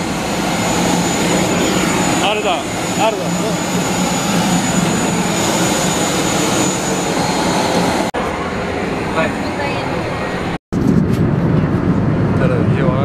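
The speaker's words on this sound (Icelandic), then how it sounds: "þá erum við komin loks á flugvélinni" Inside an airplane cabin, a jet engine roars loud and constant, a broad steady rush that runs under people chatting nearby, with brief cuts and a short dropout near the end.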